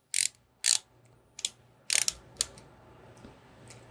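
A 6-in-1 ratcheting screwdriver, giving several crisp, close clicks in irregular bursts over quiet background noise, with no talking.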